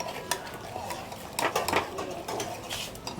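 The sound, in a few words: stir frying pepper with stock cube and red oil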